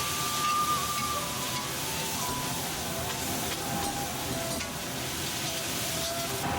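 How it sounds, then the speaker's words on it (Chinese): Pickled chilies and pickled mustard greens being stir-fried over high heat in a wok, giving a steady, close sizzle with scraping and stirring throughout and no talking. "把泡椒和酸菜倒入锅中，开大火，快速翻炒均匀"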